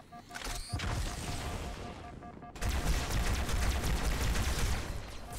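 Rapid gunfire from enemies in the video game Halo 2, loud bursts of automatic shots and impacts that cut briefly, then return as a dense, continuous barrage.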